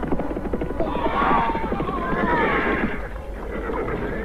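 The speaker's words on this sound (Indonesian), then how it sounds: "salah seekor dari kuda mengejar Prabu Sana dan Sanjaya melesat hingga beberapa meter dari buruannya" A horse whinnies loudly and at length in a chase scene from an Indonesian legend audio drama, its rising and falling neigh stretching over a low rumbling background.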